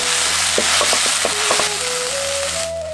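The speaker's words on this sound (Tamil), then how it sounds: "2 தேக்கரண்டி இஞ்சி பூண்டு விழுதையும் சேர்த்து நல்லா வதக்கிடுவோம்." Onions, green chilies and ginger-garlic paste sizzle steadily in hot oil, a dense frying hiss broken by a few sharp clicks of stirring, with a thin rising whistle-like tone toward the end.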